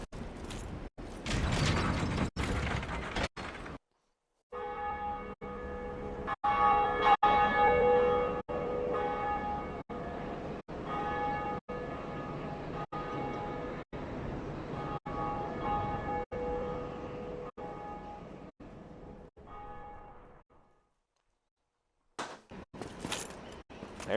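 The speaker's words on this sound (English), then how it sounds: "The first bell has been rung." A bell tolling in Dark Souls Remastered, rung with a slow, regular series of resonant metallic strikes over a sustained humming, mechanical game ambience, clear and alone.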